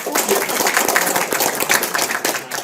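An audience at an indoor community presentation claps together, a dense patter of many hands that holds steady and fairly loud throughout the short burst.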